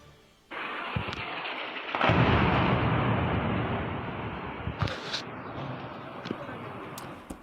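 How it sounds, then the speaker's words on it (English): Explosions from military strikes in Pakistan and Pakistan-administered Kashmir, a loud sudden blast followed by a long rumbling roar that slowly decays, with sharper cracks later and voices faintly present. "The sounds of explosions during those strikes."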